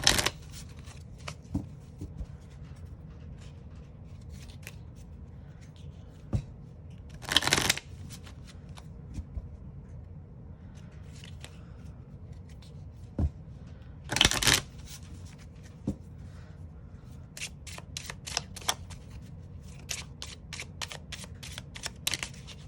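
Lenormand cards are shuffled repeatedly up close, with crisp riffling bursts and soft flicks and taps scattered through a long quiet stretch.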